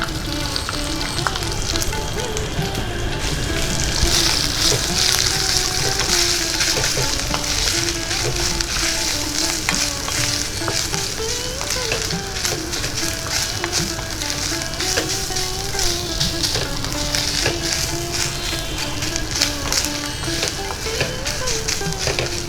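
Freshly grated coconut frying in a pan, with a steady, close sizzle and occasional stirring scrapes running continuously throughout, no voices.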